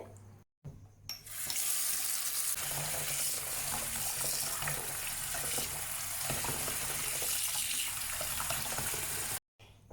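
Kitchen sink tap running steadily as food is washed and cleaned, a loud continuous water rush with splashing variations that starts after a brief cut and stops abruptly near the end, no talk.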